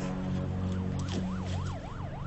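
A wailing siren, taken to be a police car's, rises and falls under a steady, loud bed of music or engine drone, sweeping up and down several times over a couple of seconds.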